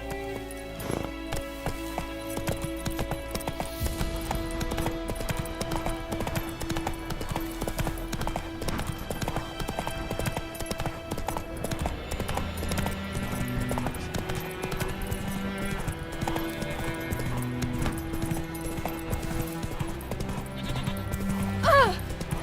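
Roach the horse gallops in The Witcher 3, hooves drumming in a steady clip-clop rhythm under constant game music, with a brief whinny and a voice speaking at moments.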